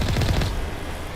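Rapid gunfire in the game Mass Effect Legendary Edition, a short loud burst of several quick shots up front that fades into a rumbling tail, no talk over it.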